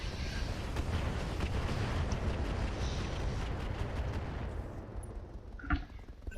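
Mag pulse weapons on a Timber Wolf mech in MechWarrior fire in a dense, continuous rumbling stream of pulses, thinning toward the end with a sharper crack.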